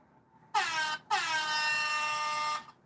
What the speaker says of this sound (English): That deserves an air horn.